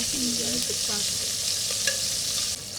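Fish frying in oil in a pan, a steady close sizzle with a few clinks and scrapes of utensils against the pan; no one speaks.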